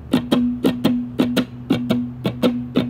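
A 3-string cigar box guitar is strummed in a heavily accented 4/4 blues swing: about a dozen sharp, close strums fall in an even, lilting rhythm over a ringing low drone, with no voices.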